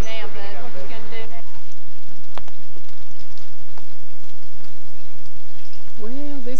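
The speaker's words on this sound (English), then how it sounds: "it's rained a good part of the night and still at it this morning." Steady morning rain falls at Lake Greeson after a night of rain, a dense continuous patter; a voice talks briefly at the start and again near the end.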